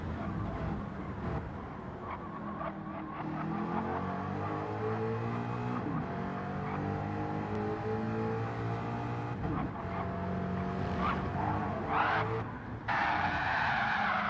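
A GR4 race car in Gran Turismo 7 skids and spins at the Alsace Village circuit. Tyres squeal loudly over a revving engine, with bursts of engine roar and sharp transients as the car slides around.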